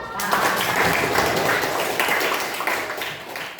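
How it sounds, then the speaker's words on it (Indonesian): A classroom of students claps hands together, a dense burst of applause that holds steady and close before thinning out, with some voices mixed in. "Kita beri apa? Tepuk."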